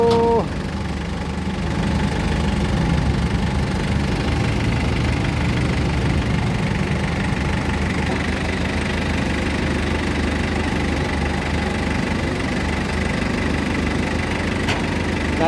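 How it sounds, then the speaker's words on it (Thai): A tractor engine idles steadily, a low, even chugging rumble that holds for the whole stretch without revving. "อาจารย์สนมานั่งอยู่ นั่งอยู่กับรถไถ"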